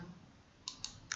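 Three sharp, quiet clicks land close together over faint background hiss, like a computer mouse being clicked.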